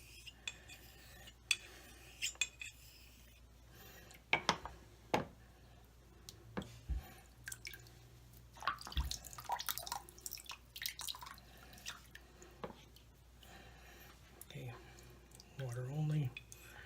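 Light razor strokes on a wet coticule stone, honing a Genco Henry's X blade with water only, make soft scattered scrapes and drips amid faint room noise and a few sharper clicks.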